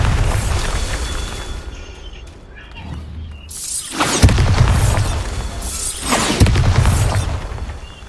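Blasting spell explosions go off in a magic-themed action video game, with repeated booming, shattering bursts roughly every two seconds, loud and close, each followed by crackling debris.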